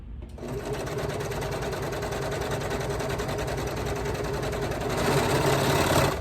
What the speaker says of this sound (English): And then you serge down these raw edges here.